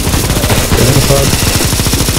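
Rapid automatic gunfire rattles in a CSGO zombie escape mod match on a pirate port map, loud and continuous, with a shouted voice over the shots.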